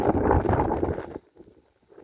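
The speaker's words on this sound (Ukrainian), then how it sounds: "Зараз йде невеликий дощик." Light rain falls outdoors over a soybean field in spring, a broad steady hiss for about a second before dropping to faint scattered patter, with some wind noise on the microphone.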